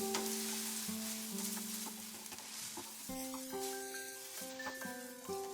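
Ginger garlic paste frying on medium heat for a chicken chop filling, a soft steady sizzle with occasional stirring clinks and scrapes, fairly quiet and close.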